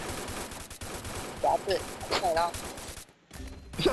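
Gunfire in the Free Fire mobile game, a burst of shots with sharp bursts and clatter, mixed under a player's excited talk and game effects, fairly quiet overall.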